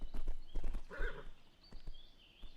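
A horse in a video game: rhythmic clip-clopping hooves with a short whinny in the middle, moderately close, over a soft game background.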